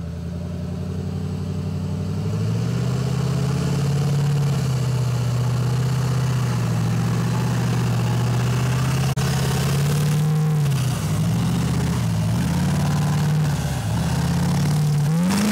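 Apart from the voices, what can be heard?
M35 deuce and a half Duramax mud truck engine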